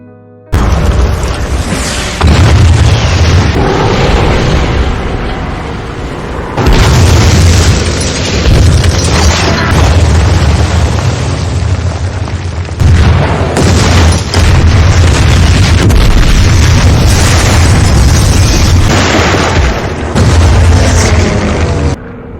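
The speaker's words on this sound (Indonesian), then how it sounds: "pesawat Nazi pun berdatangan dan langsung membombardir benteng Brest." Loud, heavy booms of aerial bombing roll one after another, deep rumbling blasts that swell and crash repeatedly with brief gaps, dense and close, with no voices.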